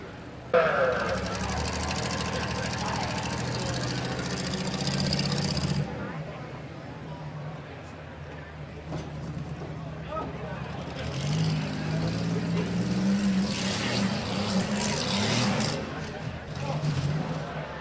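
The engine of a 1993 Oldsmobile Cutlass, stock number 16, rumbles at a county rough truck event, a loud rough roar that rises and falls under an announcer's amplified voice.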